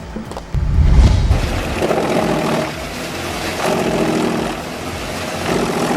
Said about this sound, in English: This is no ordinary wood chipper. The Scorpion 350 SDB is the most terrifying high-speed timber predator in the industry.